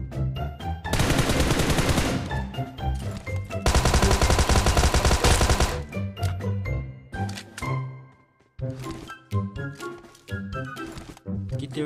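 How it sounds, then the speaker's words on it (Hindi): Gunfire in the mobile battle royale game BGMI: bursts of rapid automatic fire in two long loud stretches, then scattered sharper single shots and short volleys. "जैसे ही गाडी में बैठा तभी एक फायरिंग का साउंड आया।"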